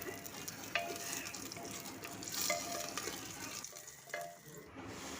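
Bay leaves, raisins and cashews frying in ghee inside a pressure cooker, a steady close sizzle with occasional stirring clinks and scrapes, no talking.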